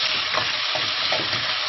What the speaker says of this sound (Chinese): 把香味炒出来，把水去炒干